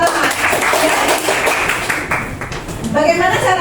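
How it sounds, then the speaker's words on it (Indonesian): A classroom group claps together in a dense burst of applause that fades toward the end as a voice returns. "Oke, tepuk tangan."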